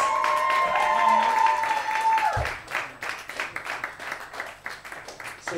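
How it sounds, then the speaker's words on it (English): Audience applause at a music night breaks out after a tone fades, a scattered crowd clapping that builds into a steady patter of many hands, moderately close. "Give a round of applause."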